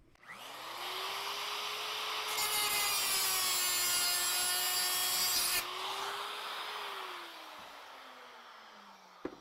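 A power grinder smooths the edges of a window cut into a metal PC side panel. It spins up, then grinds steadily at close range with a harsh, whining, rasping tone that rises during contact before winding down.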